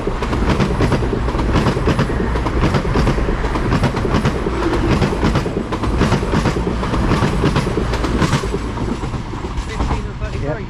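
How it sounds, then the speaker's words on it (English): A Class 220 cross-country diesel train to Newcastle passes through a station on the Wakefield lines, a loud continuous roar with rhythmic clickety-clack of wheels over rail joints, with someone talking faintly underneath. "coming through now, we've got another cross-country service"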